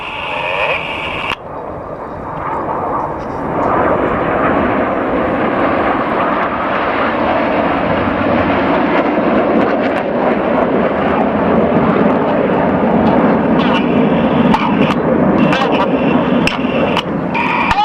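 Red Arrows jets flying in formation at an air show at Cosford, a loud sustained engine roar that swells and holds steady, with faint commentary audible underneath.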